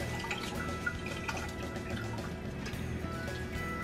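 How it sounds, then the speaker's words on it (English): Water dripping and trickling into a pot from hand-squeezed Swiss chard leaves, a faint run of small patters and splashes over quiet room noise. "drip out as much of the water as I can, and I'll even squeeze the leaves really hard"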